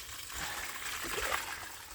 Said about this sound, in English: I'll just get rid of some of that water at the top.